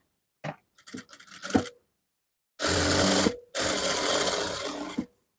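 A sewing machine stitching a half-inch seam on fabric in a tailoring class. Short stuttering bursts come first, then two longer steady runs of rapid needle whirring, close and loud, with a brief stop between them.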